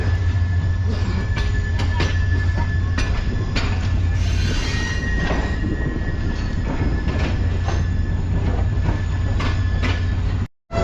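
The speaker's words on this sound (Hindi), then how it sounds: "हमारी ट्रेन बिला वजह आकर रुक गई है कोठी जंक्शन पर" Shalimar Express passenger train rolling into Kothi Junction and braking to a stop, a loud continuous rumble of wheels and carriages with a faint squeal, steady throughout before cutting off abruptly at the end.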